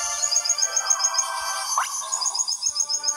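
Chirping bird call from the Nintendo DS game Where the Wild Things Are, a repeating high bright tweet pattern running through the whole stretch, fairly quiet, with brief electronic game tones mixed in.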